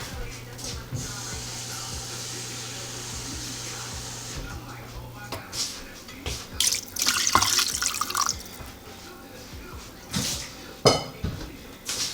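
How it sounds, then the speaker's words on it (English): Water runs and splashes into a soup pot in a kitchen while vegetarian chicken noodle soup cooks, with clinks of pots and utensils and a voice talking in the background. "add a little more water."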